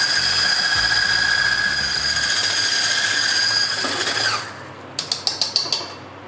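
Mechanical whirring of an electric mixer whisking about 600 grams of cut-up cream cheese for an egg-free mango cheesecake, loud and continuous, then stopping, followed by a few sharp knocks or taps.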